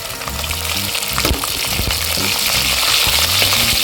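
Onion and garlic fry in oil inside a pressure cooker for tamarind rice, a loud, close, continuous sizzle broken by several sharp spoon scrapes and knocks against the metal.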